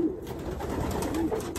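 Racing pigeon cooing nearby, a low throaty coo that rolls along steadily against faint background noise.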